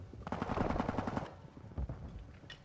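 Rapid automatic gunfire from a gun in Call of Duty: Modern Warfare 2 during a free-for-all match, a loud sustained burst that cuts off and is followed by scattered fainter shots and game noise.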